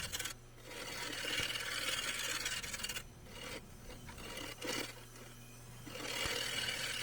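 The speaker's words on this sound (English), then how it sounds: "I used a wire brush on the front of a drill to take back the rough areas on the bottom of this bowl" A wire brush spun by a drill scours rough spots on the underside of a burl wood bowl, giving a steady close-up raspy scrubbing that pauses briefly and restarts in several bursts.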